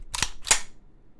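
A pistol slide is racked: two sharp metallic clacks about a third of a second apart, close and crisp, with no voices.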